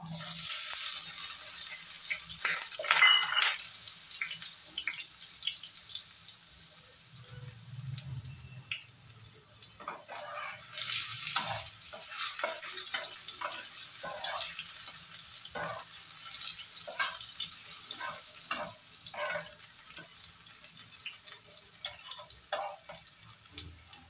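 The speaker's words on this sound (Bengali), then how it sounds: "প্রথমে আমি বয়েল করা আলুগুলো একটু ফ্রাই করব।" Boiled potatoes fry in oil in a pan, with a continuous soft sizzle and crackle and scattered pops and stirring scrapes throughout, close and with no talking.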